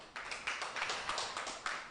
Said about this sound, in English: Another round of applause to our moderator as well.